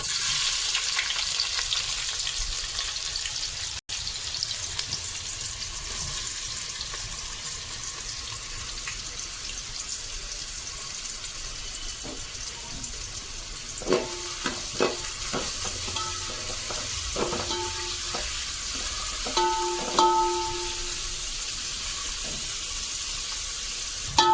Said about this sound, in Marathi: इकडे आपला कांदा फ्राय करायला ठेवला आहे